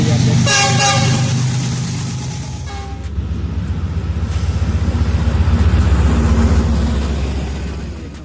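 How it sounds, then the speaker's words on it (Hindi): A Pakistan Railways passenger train bound from Karachi to Lahore passes loudly and up close on the middle track through Raiwind station without stopping, with a horn blast near the start and a steady rumble of the cars rolling by. "ये आप देख रहे हैं ये ट्रेन आ रही है, ये कराची से लाहौर जा रही है"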